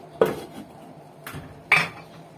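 A lid is set on a cooking pot of Dawood Basha kofta with potato cubes, producing three close, sharp metallic clanks spaced over about two seconds in an otherwise quiet kitchen.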